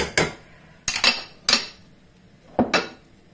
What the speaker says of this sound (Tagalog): Tapos, sige lang po ng mix.